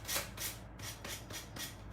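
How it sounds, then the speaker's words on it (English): Rhythmic back-and-forth rubbing of sandpaper against the hard edge of a ceramic coaster, about six even strokes, close and fairly soft. "So just start sanding away, and it should come off pretty easily."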